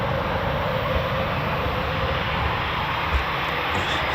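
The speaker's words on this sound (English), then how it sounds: "This is the Typhoon FGR4, that's fighter, ground attack and reconnaissance Mark 4." A Eurofighter Typhoon FGR4 fighter jet at RAF Coningsby gives off a loud, broad, continuous engine roar that stays steady throughout.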